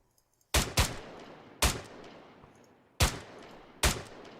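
Gunfire in the military shooter Arma 3: five sharp, loud reports in uneven bursts, a quick double shot, a single, then two more spaced shots, each trailing into a long rolling echo across open terrain, with no talk.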